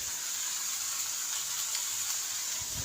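Spiced cauliflower filling for paratha, with turmeric and chilli powders, fries in a pan with a steady close crackling sizzle and hiss that holds throughout, without talk.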